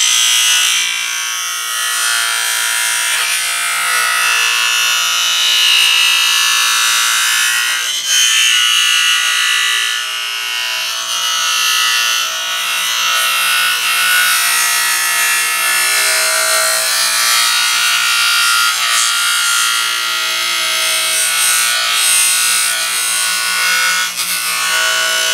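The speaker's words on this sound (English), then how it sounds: "And then I'm just going to clean those edges up on there with that grinding wheel." A grinding wheel cleaning up the edges of a Kydex knife sheath, a continuous loud, high abrasive whine held close for the whole stretch with small shifts in pitch and no talk.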